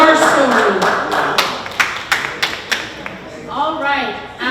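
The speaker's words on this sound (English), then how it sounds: "So Jonathan, again, we'll give you a big round of applause" Scattered claps and taps from a pageant audience at a carnival sashing ceremony, a handful of sharp, separate hits rather than full sustained applause, with talking heard behind and after them.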